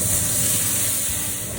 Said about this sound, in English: We love sizzle of pork chops